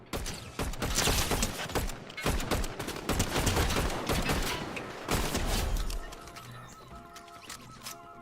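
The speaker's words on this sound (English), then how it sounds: "Oh, it's a sniper rifle." Gunfire in a Fortnite match, a loud, rapid string of sharp shots and bursts close by, thinning out to scattered mechanical clicks and a faint tone toward the end, with no talk.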